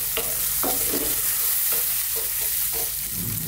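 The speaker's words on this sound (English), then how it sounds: "Now I just want to break them down roughly with my wooden spoon" A wooden spoon breaking down tomatoes roughly in a pot for eggplant parmigiana sauce, a series of soft wet scrapes and knocks repeating every half second or so over a constant background hiss, no voices.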